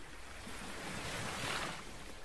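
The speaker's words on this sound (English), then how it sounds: "Near the shore, waves slow down and crash, making the familiar splashing sound." Soft ocean surf washes in a continuous hiss, swelling slightly midway as a wave breaks, faint and steady with no voices.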